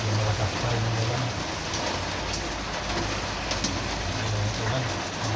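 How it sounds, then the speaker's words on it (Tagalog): Heavy rain falling steadily during outdoor cooking, a dense, continuous hiss and patter at even loudness, with a low hum drifting in and out beneath it. "Hindi malakas pa rin yung ulan."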